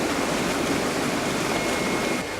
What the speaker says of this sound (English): The water moves through, so this becomes like a river.